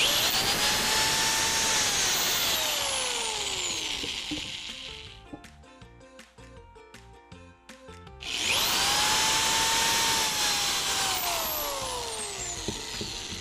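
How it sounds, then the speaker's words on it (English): A power drill whirs at high speed drilling pilot holes into 1x4 and 2x4 wood, spins down, a brief stretch of clicking and handling follows, then the drill roars up again, loud and close. "I'm going to drill 2 pilot holes."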